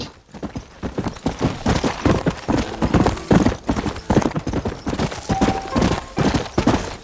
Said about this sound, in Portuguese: Pelo menos meu cavalo tá mais rapidinho agora, né?